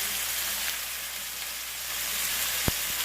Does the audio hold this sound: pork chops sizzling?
yes